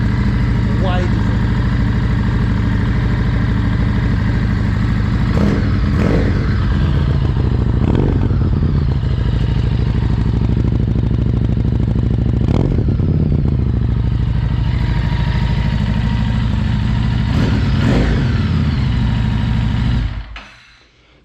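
Harley-Davidson Street 500 motorcycle with its exhaust baffle removed, idling loud and close with a deep throbbing exhaust and occasional revs, then cut off at the end.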